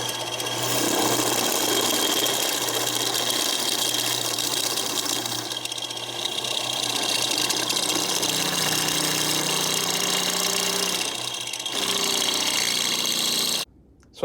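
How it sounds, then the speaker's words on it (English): A step bit drills holes into a metal bracket for a classic car's rollover vent, a steady mechanical whir and grind with short pauses, ending abruptly. "I want to go ahead and drill the holes on the other side of the bracket"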